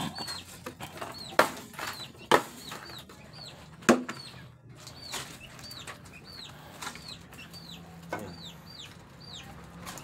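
Chickens being fed at their feeding spot flap their wings in a few sharp bursts among repeated clucks and chirps from birds nearby. The scene is quiet overall, with no talking.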